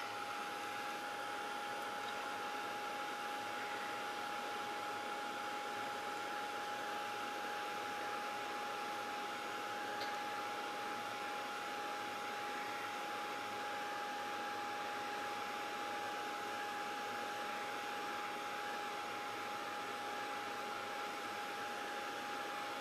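A heat tool blows a steady, even hiss of hot air over an embossed stamped tile, holding one constant whooshing tone from start to finish with no voices.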